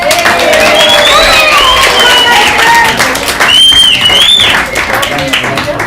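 Loud clapping and cheering from a lively wedding crowd for the best man, with whoops and voices mixed in over the steady applause.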